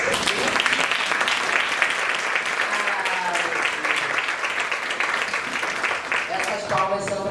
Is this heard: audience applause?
yes